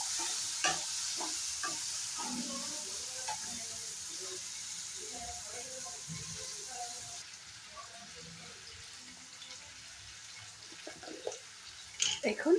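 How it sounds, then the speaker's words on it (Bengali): Potatoes fry and get stirred in a pan for a cabbage curry, giving a quiet steady sizzle with scraping stirs and faint clatter, while someone speaks softly over it. "এখন আমি আলুটাকে ভালো করে ফ্রাই করে নেব।"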